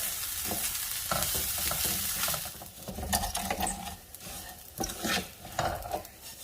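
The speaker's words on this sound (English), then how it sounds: "And now I'm going to toast my rice." Basmati rice toasting in a hot pan as it is stirred, giving a dry crackling sizzle and repeated scraping and clattering strokes from the utensil.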